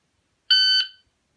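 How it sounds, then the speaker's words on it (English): A single loud, shrill electronic beep from a shot timer sounds for about half a second, then cuts off into silence. "So now it will be just the random beep."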